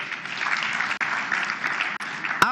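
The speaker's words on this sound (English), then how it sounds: "Clap for yourself." The audience at a customs conference opening ceremony claps for themselves, a steady, moderately loud wash of many hands with two brief dips and a sharp knock near the end.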